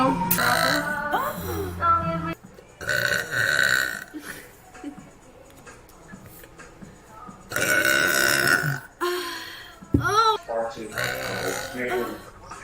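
A young person burps repeatedly, with several loud drawn-out belches separated by pauses, and people talk and laugh between them.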